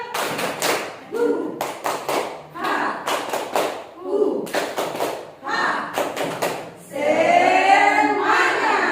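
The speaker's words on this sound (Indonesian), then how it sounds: "Boleh dulu sebentar kita tepuk semangat." A group of workshop participants does a rhythmic spirit clap, with bursts of sharp, loud claps in repeated short patterns separated by brief pauses, ending in a stretch of lively chatter and laughter.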